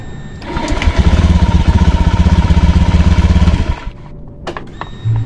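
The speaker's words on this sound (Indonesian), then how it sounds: "Cek, starter." Honda Beat FI scooter's electric starter cranks the engine in a loud, rapid chugging whir for about three seconds, then cuts out into quiet with a few clicks and a brief thump at the end.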